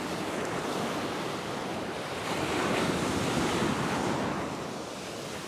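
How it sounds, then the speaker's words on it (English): Ocean waves crash and surge onto the beach on a rising tide at a shore fishing spot, a loud, continuous wash with wind buffeting the microphone and swelling slightly in the middle; no voices. "the waves are crashing against it"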